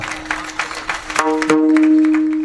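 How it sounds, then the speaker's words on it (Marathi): Rhythmic hand clapping from an audience at a Marathi devotional kirtan, a quick burst of claps that gives way to a sustained, steady musical tone. "टाळी वाजवा महाराज."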